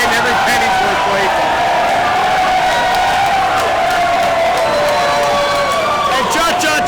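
A live wrestling event crowd cheers and whoops loudly behind continuous commentary, a dense, rowdy roar that stays strong from start to finish.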